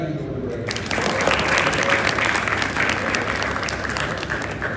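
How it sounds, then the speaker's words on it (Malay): A hall audience at a motivational talk bursts into applause after a brief quiet start. The clapping stays full and even until the end, with some voices faintly mixed in. "Tepuk tangan kepada mereka."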